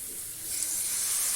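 Water poured into a pan of frying spiced potato, cauliflower and capsicum curry brings a steady, close hiss and sizzle that swells slightly partway through, with no talking.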